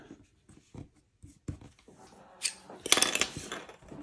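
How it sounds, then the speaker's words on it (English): Scissors snip a small strip of tape in a few quick, close cuts, with light handling clicks before and a brighter crinkly burst near the end, during work on an Athearn Blue Box GP38 Norfolk Southern model locomotive. "Let's get a bit of tape. Just cut this to shape."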